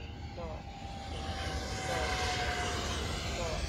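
Freewing F-14 RC model jet flying at full throttle, a steady loud engine roar that swells slightly and holds on, with a faint whine layered through it.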